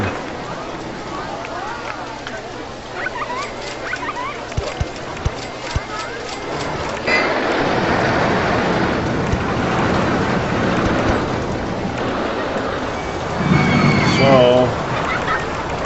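Steady rainfall in the Roller Coaster Tycoon theme park game hisses as a continuous wash that swells louder partway through, while a voice talks over it and brief clopping sounds come and go.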